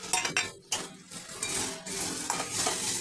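Onion frying with ground chilli, turmeric, cumin and salt in a pan, a close sizzle broken by scraping and clinking spatula strokes as the mix is stirred, no talk heard.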